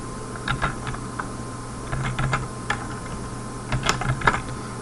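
Computer keyboard keys tapped while C code is typed, scattered short clicks in loose bursts with pauses between them, fairly quiet over a steady low hum.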